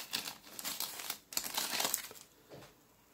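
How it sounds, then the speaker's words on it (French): Crinkling plastic as a graded Magic card is unwrapped from its packaging, close and crisp, in two rustling bursts followed by a quieter rustle. "je vais essayer de la déballer."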